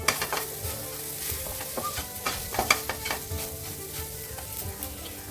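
Masala sautés in hot oil with a soft continuous sizzle, punctuated by repeated scraping and clinking stirs of a spoon against the pan, fairly close and quiet, without speech.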